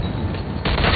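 Rapid gunfire in the Mafia II Definitive Edition video game, a dense, loud burst of overlapping shots and booms that intensifies in the last half-second.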